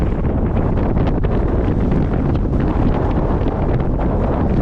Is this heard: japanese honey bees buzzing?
no